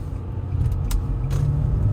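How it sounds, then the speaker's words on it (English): Steady low droning rumble from inside a 2009 Nissan Altima at highway speed, a constant heavy hum from a worn wheel bearing with brief whooshes of passing air. "If you guys can hear that loud noise right there, that's a wheel bearing."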